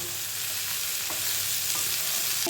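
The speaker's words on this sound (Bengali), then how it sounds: "সেই কাজু কটা দিয়ে দিচ্ছি, আর কিশমিশ দিয়ে দিচ্ছি। এটা দিয়ে আর একটু ভেজে নেব" Soaked cashews and raisins frying in a pan, a continuous loud close sizzle with a few soft stirring scrapes, no talking.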